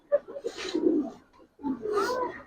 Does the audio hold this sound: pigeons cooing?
yes